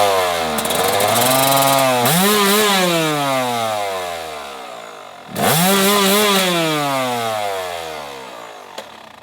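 A Yamaha YZ250 two-stroke dirt bike engine revs up hard twice, each rev rising to a buzzing scream and then winding down slowly, loud and close.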